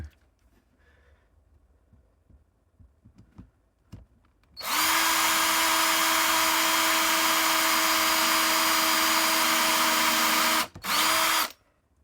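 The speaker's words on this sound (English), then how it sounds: "and then I'll countersink them" A power drill countersinks screws in wood while a Japanese pachinko cabinet is being built. After quiet handling noises, it gives a loud, steady whine for about seven seconds, with one brief stop near the end.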